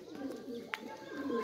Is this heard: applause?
no